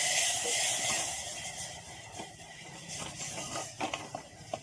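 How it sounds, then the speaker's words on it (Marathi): Masala water hisses as it is sautéed in a pressure cooker with stuffed brinjals and peanuts, a steady broadband steam-like hiss with scattered clicks of stirring that loosens toward the end. "आता परतून घेऊ"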